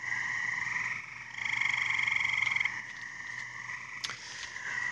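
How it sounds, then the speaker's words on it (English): Frogs croak in a dense, continuous chorus after heavy rain, steady and fairly close, with a louder stretch in the middle and a brief sharp click near the end. "Don't mind the frogs, they're loving it."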